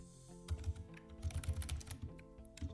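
Keys on a computer keyboard clatter in quick, uneven bursts of close, soft taps during JavaScript coding, over a faint background hum.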